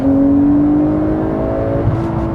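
Porsche sports car accelerating hard from a standstill in Sport Plus mode: a loud, sustained engine drone with steadily rising pitch and no voices.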